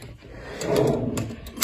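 A hotel room drawer slides open or shut with a short wooden rumble and a few light knocks, close by in a quiet room.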